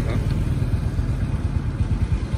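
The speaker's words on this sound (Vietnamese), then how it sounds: "Nổ máy rồi á." A Honda Wave Alpha motorcycle with a white engine block and original engine idles steadily, a low, even, quiet putter with a constant rhythmic pulse throughout.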